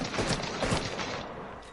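A quick flurry of gunshots fires in a video game aim-training drill, the player strafing left and right for headshots; the short crackling volley is moderately loud and fades slightly toward the end.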